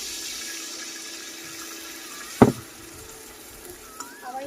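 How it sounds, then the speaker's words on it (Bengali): A splash of water hits frying spices in a hot pan, giving one sharp burst of sizzle midway over a steady low frying hiss, close, followed by faint stirring sounds. "এখানে আগে এখানে একটু পানি দিয়ে দিচ্ছি যেন মশলাটা পুড়ে না যায়।"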